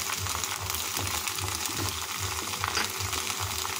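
Okra pieces with salt and turmeric frying in a pan, a steady close sizzle with faint stirring scrapes throughout, no voices.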